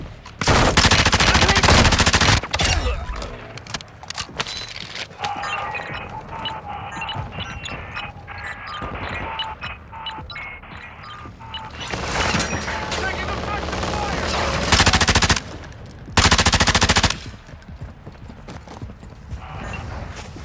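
Repeated loud bursts of automatic gunfire in a Call of Duty DMZ match, separated by quieter stretches, with voices and radio-style callouts in between.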